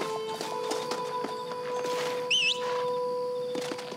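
In the Western game Red Dead Redemption, a horse's hooves clip-clop in a steady walking rhythm, moderately close, over ambient game tones and a brief bird chirp.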